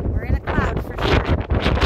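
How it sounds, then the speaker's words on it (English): Steady wind roars and buffets across a cloud-covered mountain peak on the Appalachian Trail in New Hampshire, loud and gusting throughout, with a person talking over it. "That is windy."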